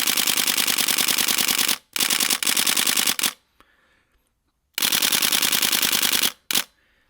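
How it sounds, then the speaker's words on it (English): A camera shutter firing in full continuous burst mode during a protest photo shoot, rapid mechanical clicks in long rattling bursts of about a second or more, separated by short pauses and a longer silent gap, close and loud. "that's my full burst of my camera"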